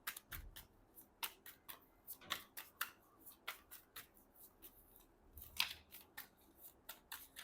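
Tarot cards being shuffled by hand, a run of quick crisp riffling flicks and slaps in an irregular rhythm, close and fairly quiet with no talking.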